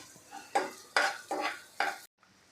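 Ginger-garlic paste and onion sautéing in a pan, four distinct scraping stirs over a faint sizzle, close by, ending abruptly in near silence.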